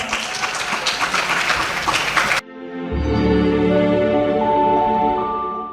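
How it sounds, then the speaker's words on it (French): Audience at a Christmas-themed French TV show applauding the producer Phil Bill, a dense burst of clapping for about two seconds that cuts off abruptly into sustained music. "On l'applaudit encore"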